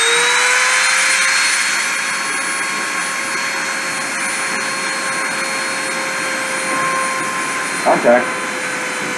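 A machine spindle spins at 30,000 RPM, giving a steady high-pitched whine with several sustained tones over a constant broadband roar. Near the end there is a brief disturbance, and one short spoken word sits over the sound.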